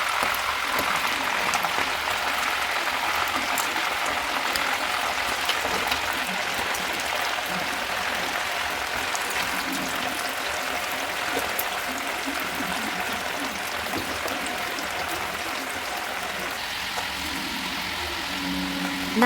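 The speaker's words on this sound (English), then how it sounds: "First, fry the beef pieces until they turn golden brown." Beef pieces frying in a pan for an Afghani deghi kabab, giving a steady, dense sizzle and crackle that runs evenly throughout without talk.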